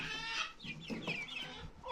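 Chickens on a home farm cluck in a steady, chattering run of short calls, somewhat distant and moderately quiet, with no voices over them.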